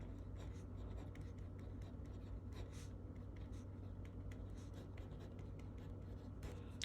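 Marker or chalk strokes scratch across a board during a trigonometry math lecture, a faint run of short, quick strokes over a steady low hum, with no talk.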